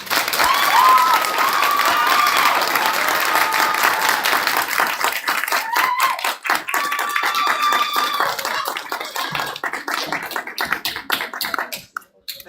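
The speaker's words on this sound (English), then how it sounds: "Can we get another round of applause for Sabrina?" An audience at a spring speakers forum claps for a speaker: dense, loud applause that thins into scattered hand claps before fading out, with faint voices beneath.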